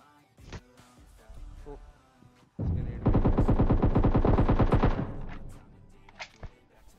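Scattered clicks and thumps give way to a long, rapid burst of automatic gunfire in PUBG Mobile, loud and rhythmic, followed by a few sporadic shots.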